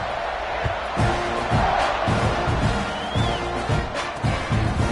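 A stadium crowd in a Madden football game on PS5 roars and cheers in a dense, continuous wash of noise with rhythmic low thumps, loud and close throughout.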